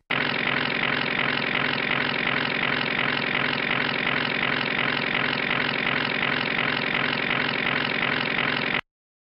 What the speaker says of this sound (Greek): Το αεροπλάνο χρησιμοποιεί ισχυρέ μηχανές για να μπορέσει να σηκωθεί στον αέρα.